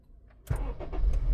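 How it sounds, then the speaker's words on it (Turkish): A Honda Civic fitted with a push-button keyless start cranks and fires up, a sudden close engine catch after a quiet moment, settling into a rough running rumble. "Düğme yapacak. Araba çalışacak."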